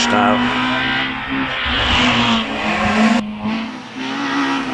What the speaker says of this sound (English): Away then goes Samantha Lester in her Peugeot 106 GTI heading under the bridge